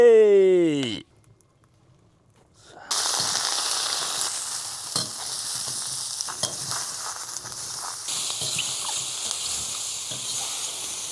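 Meat sizzles in a hot pan with oil, a steady loud frying hiss that follows a brief sliding tone and a short quiet pause, with small pops and stirring sounds and no voice.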